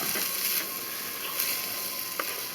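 Corn sizzles steadily and loudly in a hot pan in a home kitchen, with a few faint scrapes of stirring in the first half, and no voices.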